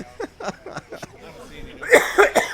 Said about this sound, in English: So funny I had to cough.